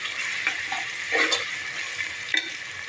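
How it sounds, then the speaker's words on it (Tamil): A spoon stirs rice through boiling water in a pot for vegetable rice, giving soft, close swishes and scrapes over a steady bubbling hiss. "அடி பிடிக்காமல் நல்லா கிண்டி விடுங்கப்பா."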